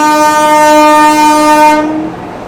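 The Shatabdi Superfast Express at Pune station sounds a loud, sustained horn up close for about two seconds before it cuts off, leaving quieter rumble behind.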